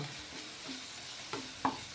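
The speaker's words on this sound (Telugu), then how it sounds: "ఇట్లా బాగా కలుపుకోవాలండి కారాన్ని కూడా కొంచెం ఉడకనిద్దాం మనం ఆయిల్లో కొద్దిసేపు కారం కూడా ఉడకాలి" Chili powder frying in oil for an okra masala curry, a soft low sizzle with a few gentle scraping stirs, quiet and close, no talking.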